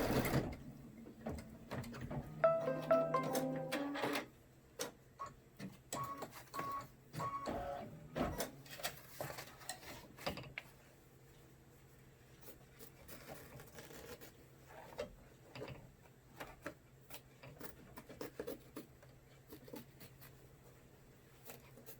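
An embroidery machine sews a placement stitch for a party hat project, making rapid mechanical whirring and ticking, louder at first and then quieter with intermittent clicks.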